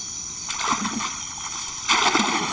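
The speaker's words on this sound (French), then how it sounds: "Le caïman est à peine tombé dans l'eau" A caiman's body drops into Amazon river water, giving two close splashes and sloshing over a steady background of night insects and wildlife.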